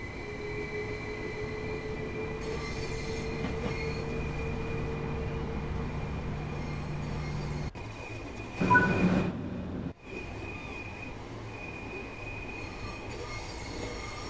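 A passenger train in the Train Sim World 3 game, running on the East Coastway, rumbles along steadily while its wheels squeal in sustained tones, with a brief louder burst of noise near the end.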